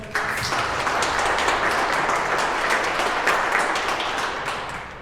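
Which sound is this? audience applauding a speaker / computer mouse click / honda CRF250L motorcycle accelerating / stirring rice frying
audience applauding a speaker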